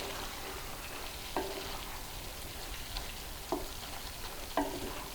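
Chicken liver fry being stirred in a pan, with a steady, soft sizzle throughout and a few sharp spoon scrapes against the pan.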